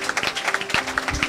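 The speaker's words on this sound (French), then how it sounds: "On acclame pour le Seigneur." Church congregation applauding for the Lord, a short burst of irregular claps close and fairly loud, with a faint sustained tone in the background.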